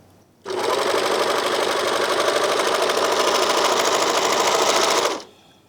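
A Janome 644D serger runs at a steady fast buzz stitching and cutting fabric along a seam, starting abruptly, holding an even close whir for about five seconds, then stopping.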